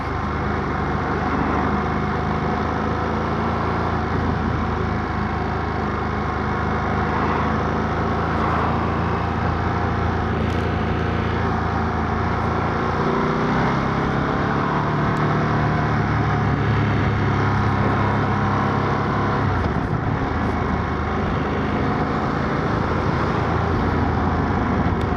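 A 2025 Ducati V2S motorcycle ridden around a test circuit, its engine note holding a constant loud drone with wind rush throughout, a short dip and rise in pitch midway as the rider changes speed.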